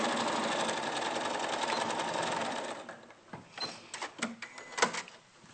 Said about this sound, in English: It's less likely that your machine's going to chew up the fabric if you start from a straight edge.